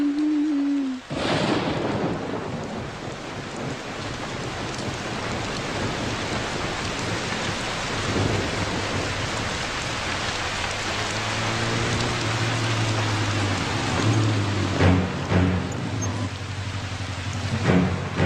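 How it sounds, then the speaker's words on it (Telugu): Steady rain pours throughout with a dense hiss, punctuated by low thunder rumbles and a passing vehicle; a brief abrupt cut near the start, with music or voices faint beneath the downpour. "ఏంద్రబాయికి వర్షం"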